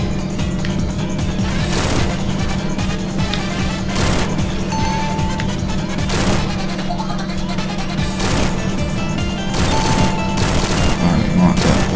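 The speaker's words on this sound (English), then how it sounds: "these are bombs, you want to hit them, and they will explode" Bombs explode in the Sonic Mania video game's Hydrocity Zone, a series of booming blasts roughly every two seconds over dense, loud game music and effects.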